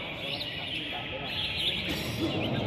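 Fighting birds calling during a bird-fighting match in Cẩm Phả, Quảng Ninh: scattered short chirps and tweets rise over a busy, noisy background.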